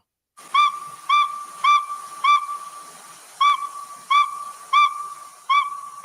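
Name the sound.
northern saw-whet owl call recording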